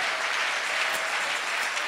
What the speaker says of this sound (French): acclame ce Dieu